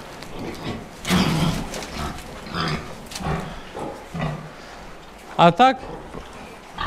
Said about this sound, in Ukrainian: Бо тут свинки, і тут є одна маленька свинка